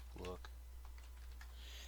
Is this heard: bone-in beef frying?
no